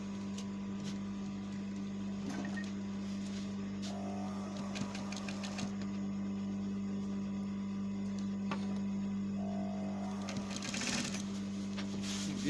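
A sewing machine stitches a shirt collar seam, its steady motor hum and fast needle chatter running close and continuous throughout.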